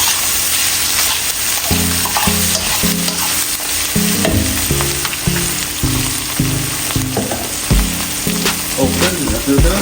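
Jamaican-style brown stewed chicken frying in a pot, a constant sizzle broken by a rhythmic series of scraping, clanking spoon strokes as it is stirred, close and fairly loud.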